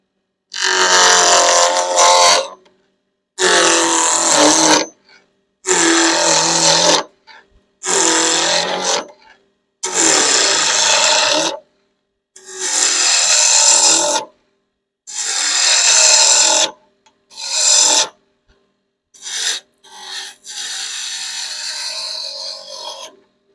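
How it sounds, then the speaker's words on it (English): A 2x2x4 wood blank spins on a lathe at about 2800 RPM while a roughing gouge bites into it in repeated loud, harsh scraping passes, each lasting a second or two and separated by short pauses, close to the listener. "we're going to start turning at about 2800 RPM with the rough and gouge"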